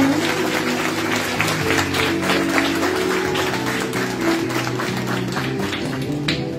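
Audience applause at a school graduation ceremony, scattered hand claps from a crowd over a steady low hum of the room, moderately loud and continuous without talk.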